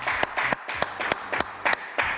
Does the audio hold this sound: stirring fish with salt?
no